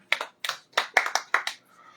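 A few people clap in short separate bursts for Allan at an Uyo radio talk show, crisp and close, with brief gaps between bursts before fading out.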